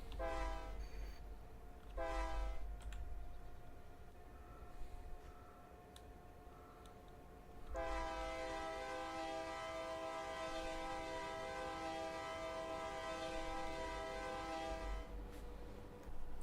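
A train rumbles past in the video game Farming Simulator 22, its loud horn blaring in sustained blasts over the heavy rolling rail noise, with no talk.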